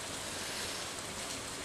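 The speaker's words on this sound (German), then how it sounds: "Es regnet, ich brauche nicht gießen." Steady, even rain in the Stardew Valley video game, a dense hissing wash with no breaks and no voices.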